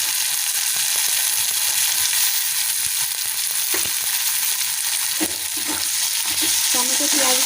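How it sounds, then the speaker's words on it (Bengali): Tomatoes and onions fry in a pan with a dense, loud, continuous sizzle while a spatula stirs and scrapes in irregular strokes. "টমেটো পেঁয়াজগুলো দিয়ে ভালো করে নেড়ে দিয়েছি"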